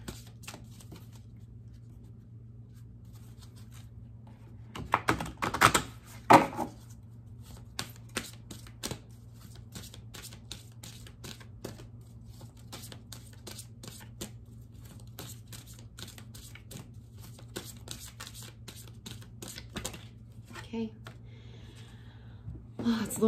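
Someone shuffles an Ascension oracle card deck by Diana Cooper: soft, close riffling and flicking of cards in short bursts over a low steady hum, with quiet talk between.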